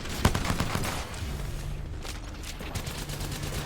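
Gunfire from an Apex Legends match: a quick cluster of sharp shots opens the stretch, followed by scattered, fainter bursts and mechanical clicks, all fairly quiet.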